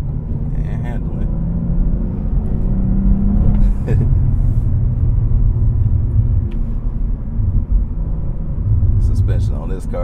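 A Cadillac CT4-V Blackwing cruising on a highway, deep continuous engine rumble with gear-change shifts in pitch, loud and close from inside the cabin, with a voice speaking over it at moments.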